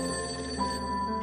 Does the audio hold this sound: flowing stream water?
no